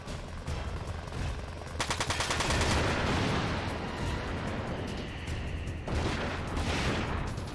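Rapid gunfire from the game Front Mission 4, a dense, loud burst of repeated shots with a rattling machine-gun texture that swells, eases off and returns near the end.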